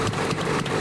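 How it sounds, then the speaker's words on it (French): The two-stroke engine of an East German Trabant car putters in a dense, buzzing drone for under a second, loud and close with a slight irregular pulse. "c'est le moteur de temps de la Trabant, évidemment, on l'a reconnu là"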